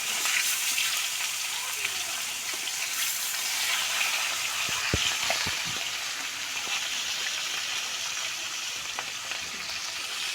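Pangas fish pieces frying in hot oil give a continuous, busy sizzle with a cluster of sharp pops and spits midway as a piece is flipped, steady and close throughout.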